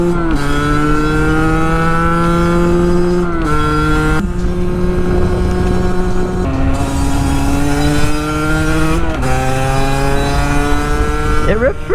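Sherco Supermoto 50 motorcycle with an AM6 engine and big bore kit revs loudly and steadily, its pitch sweeping up and holding through several throttle blips, with brief cuts between, close by throughout.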